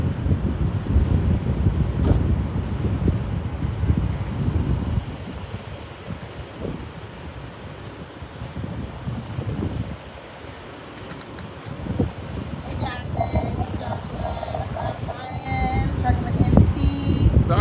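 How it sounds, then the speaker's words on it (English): Strong outdoor wind buffets the microphone with a constant low rumbling roar and gusts while people talk to a camera during a CB antenna installation, with the wind noise dominating throughout. "Because that wind is really bad."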